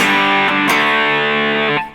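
Electric guitar played through a modded ThorpyFX Lawbringer overdrive pedal, a sustained mildly distorted chord with a second strum midway, ringing out loud and alone before fading at the end.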